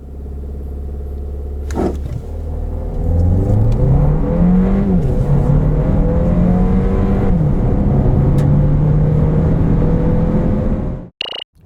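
A 2021 Hyundai Tucson with the 1.6 turbo gasoline engine and AWD launches hard from idle, engine revs climbing through several gear shifts in a loud continuous pull, recorded inside the cabin, ending with a brief clunk.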